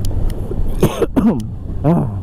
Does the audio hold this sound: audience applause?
no